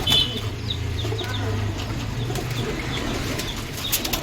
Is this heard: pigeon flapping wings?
yes